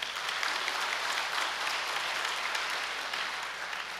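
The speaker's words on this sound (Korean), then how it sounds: "우리 축복가정들 위해 박수 한번 칩시다." An audience applauding blessed families at a large gathering, a dense, steady wash of many hands clapping together, loud and uninterrupted throughout.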